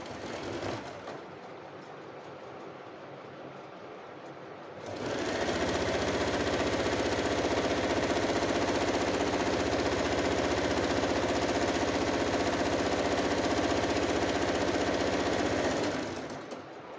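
Sewing machine stitching tucks on plain kurti fabric, a quiet hum at first, then a loud steady mechanical whir for about eleven seconds before it stops.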